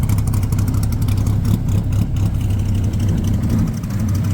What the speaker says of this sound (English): Probably gonna be hard to hear me over the car now